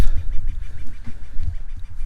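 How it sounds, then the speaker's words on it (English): A bird calling repeatedly outdoors, a rhythmic series of short honking, duck-like calls at a steady pace, fairly close, with a low rumbling background and no voices. "That bird's been going like that for like an hour and a half."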